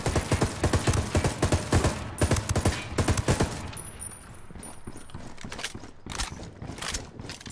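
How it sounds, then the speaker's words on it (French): Gunfire in the Ghost Recon Wildlands video game, rapid bursts of automatic shots in quick succession, loud and close, pausing briefly before scattered shots resume with some faint background sounds. "Allez, qu'on tire."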